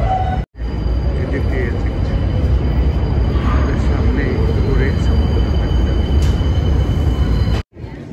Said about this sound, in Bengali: এটি হচ্ছে কনি আইল্যান্ড রেলওয়ে স্টেশন।